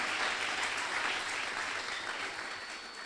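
A congregation applauding for Jesus at an evening church service, sustained, dense clapping from a large crowd that holds steady and fades slightly toward the end.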